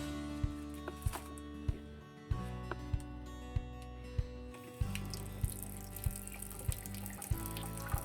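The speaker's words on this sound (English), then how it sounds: "Now the hot water line might have some air in it since we filled the hot water heater. We're just gonna let it run a little bit." Hot water runs from a faucet inside a Trail-Lite camper after the water heater was filled, a steady close rush broken by regular sputtering knocks and clicks as air works through the line.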